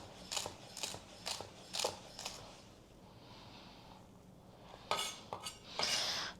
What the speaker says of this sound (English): I should really and truly grate this celery, but let's just chop it up finely.